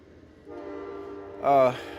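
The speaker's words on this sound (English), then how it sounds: "the train coming through." A passing train rumbles steadily, then a loud, blaring horn sounds in one short blast near the end, close by and dominating the background.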